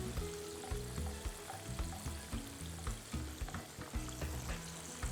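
Chicken lollipops deep frying in hot oil until crispy, with a loud, busy bubbling sizzle and repeated close stirring clatters against the pan.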